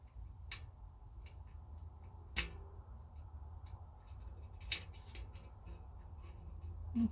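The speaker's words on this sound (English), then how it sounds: "I'm just going to trim that off just a little bit with my razor blade" A razor blade trims the edge of decoupage paper on a hand-painted canister, giving a few sharp, brief scraping ticks at irregular intervals over a quiet, low hum.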